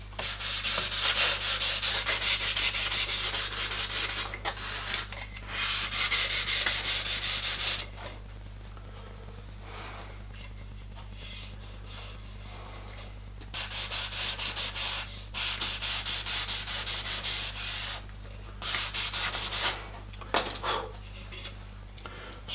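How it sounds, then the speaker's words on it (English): Wooden plank edges being hand-sanded to a rounded radius for a 5-inch gauge model steam locomotive, a continuous scratchy rubbing in long strokes with short pauses, close and fairly loud over a low steady hum. "So we'll sand a radius on these ones."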